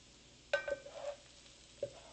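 Garlic and onions fry in a pan while being stirred, giving a faint steady sizzle broken by a few brief scraping stirs, close and quiet with no talking.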